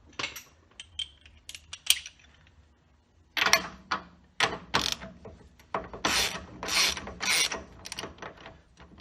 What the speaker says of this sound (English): I'll stick it on my ratchet.